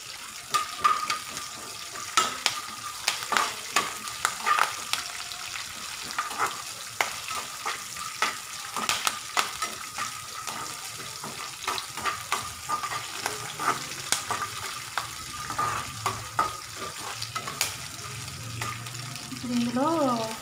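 Curry leaves fry in a pan with a soft, continuous sizzle, broken up by the scraping and clinking of stirring. A person speaks quietly now and then over the cooking.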